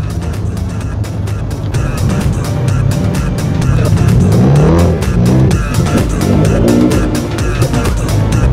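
A car engine revs hard and rises in pitch through repeated acceleration sweeps, loud and close, with steady traffic-like rumble underneath and a faint voice in the background.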